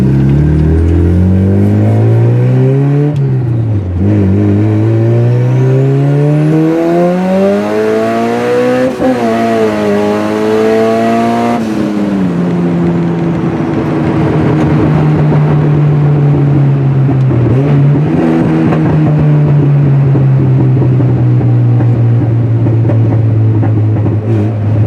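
A 300hp turbocharged Mitsubishi Lancer GSR accelerates hard, its engine revving loud and close as it climbs through second, third and fourth gears with clear pitch drops at each shift, alone without talk.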